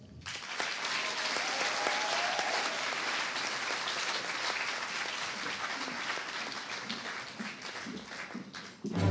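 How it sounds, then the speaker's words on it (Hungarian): A school graduation-style ribbon ceremony crowd at a bilingual secondary school gives sustained applause, a dense continuous roar of clapping that holds steady for several seconds before tapering near the end. "Nekik is kérünk még egy nagy tapsot."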